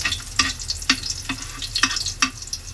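Vegetables stirred and sautéed in a hot pan to release their aroma, with a steady oily sizzle broken by about five sharp scraping strokes of a utensil at a slow, regular pace.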